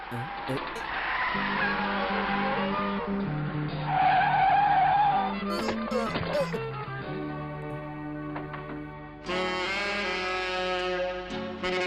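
Car tires skid and squeal through a chase scene in a dubbed South Indian action film, the screeching mixed with music and voices talking over it.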